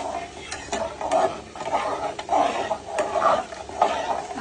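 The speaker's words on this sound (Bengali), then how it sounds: "ভালো করে একটু নেড়ে সব মিক্সড করে নিব।" A spoon scrapes and stirs taro (kochu mukhi) curry with salt in a pan, soft sizzling under a steady run of rhythmic stirring strokes, close by.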